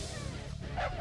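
Dogs in a video game bark and yip in quick overlapping bursts over steady game music and noise, with a louder burst near the end.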